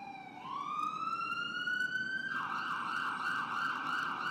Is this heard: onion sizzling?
no